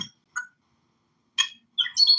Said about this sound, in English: You can hear birds are clear.